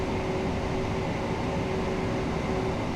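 Modern passenger train in Train Sim World, climbing a gradient on power notch 4 between Seaford and Brighton, a steady loud traction motor drone with constant rumble and a faint tonal whine, no voices.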